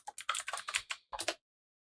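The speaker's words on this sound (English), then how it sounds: "we're gonna type in Mythic Games" A rapid run of keystrokes on a computer keyboard, close and clear, taps out a short phrase and stops after a brief pause and a final few clicks.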